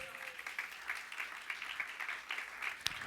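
A church congregation claps during a Spanish-language sermon, a fairly light, uneven patter of hands with a couple of louder claps near the end, somewhat thin and mixed with room noise.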